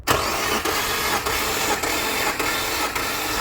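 Infiniti G25 V6 engine cranking steadily on the starter during a compression test, a loud continuous whirring churn with a faint rhythmic pulse from each compression stroke, running without pause and with no talk.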